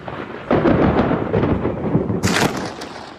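Thunder rolls from lightning strikes over Miami under a cloudy sky, a loud deep rumble building with a sharp crack midway, continuous and alone without voices.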